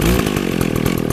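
A 24-inch chainsaw idles steadily with its chain brake engaged, a loud, close, continuous engine buzz with a rapid pulsing rhythm and no voices.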